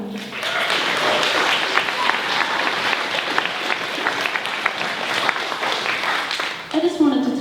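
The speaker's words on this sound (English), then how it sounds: "Please give them a clap for me." Sustained applause from an audience at a Klingon wedding fills the clip, dense and steady, before a voice briefly speaks at the end.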